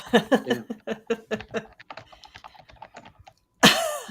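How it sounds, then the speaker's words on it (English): Rapid, uneven clicking of keys on a computer keyboard, fairly close, ending with a sudden louder burst of noise. "I hear keyboard clicking"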